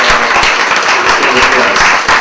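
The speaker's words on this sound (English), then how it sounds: "Let's give a round of applause for" Audience at a climate justice event gives a loud round of applause for the guests, many hands clapping steadily and close, with a faint murmur of voices beneath.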